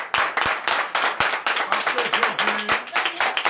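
Church congregation clapping rhythmically in acclaim of Jesus at a night deliverance service in Benin, steady close claps in a quick beat, with a voice speaking over them.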